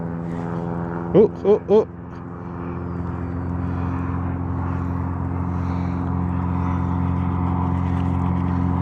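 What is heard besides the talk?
float plane engine flying around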